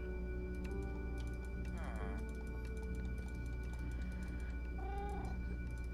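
A Minecraft cat gives two short, wavering meows, one near two seconds in and another near five, over steady background game music.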